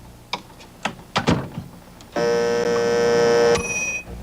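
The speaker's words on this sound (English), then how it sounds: "a microwave oven" A household microwave oven in a rural northern Idaho home in 1986 gives a few soft clicks and taps, then runs with a steady loud hum for about a second and a half before fading.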